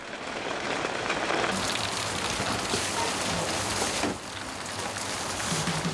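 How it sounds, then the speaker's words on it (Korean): Rain falls steadily near the end of a long rainy season, a dense continuous patter and hiss on surfaces with no voices, briefly dipping before resuming at the same level. "하루 종일 비가 오락가락하는데요."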